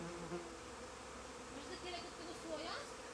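Honey bees buzzing around a hive in an apiary, a continuous dense drone that holds steady with a few individual bees passing closer.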